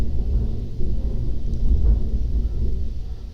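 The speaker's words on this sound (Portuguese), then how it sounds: "Olha o trovão." Thunder rolls as a deep, loud, continuous rumble with a few heavier swells, filling the whole stretch with low booming and no voices over it.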